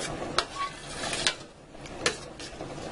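Tomato, olive oil and tomato paste sauce for puttanesca cooks in a pan with a low, steady sizzle, broken by a few sharp clinks of a utensil against the pan.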